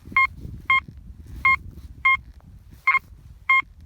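Six short, clean electronic beeps from a metal detector signalling a find by a river, at a regular pace, each a brief tone over quiet background rustle.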